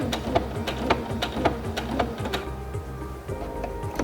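A Singer Featherweight C240 sewing machine runs a short burst of tie-off stitches, a quick, even mechanical ticking with regular beats, close and fairly steady, slowing near the end.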